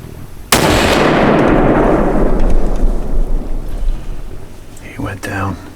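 A single loud rifle shot fired at a doe during Pennsylvania rifle season cracks sharply and is followed by a long rolling echo that fades out, with a voice briefly heard at the end.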